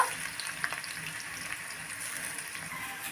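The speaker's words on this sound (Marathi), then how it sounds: "कांदा टाकूया कांदा छान परतून घेऊया लाल होईपर्यंत" Onion sautés in hot oil in a wok, a soft, even hiss with light crackles and a few faint stirring knocks, fairly quiet and without speech.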